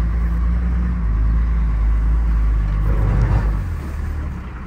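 A first-generation Dodge D350 pickup with a Cummins diesel engine rolls along steadily, its deep engine drone loud and continuous and rising slightly partway through, with no talking over it.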